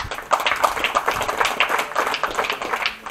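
A small group clapping steadily for a few seconds, close by, with irregular overlapping claps and no voices, at a rifle shooting finals ceremony.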